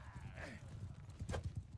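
Horse hooves clip-clop in the medieval combat game Mount and Blade 2 Bannerlord, quiet clustered hoofbeats in two bursts with a brief higher animal cry early on.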